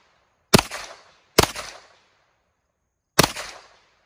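Three sharp, loud gunshots from a Winchester M1 carbine in .30 caliber, each cracking out with a short decaying tail; the first two come close together and the third follows after a longer pause.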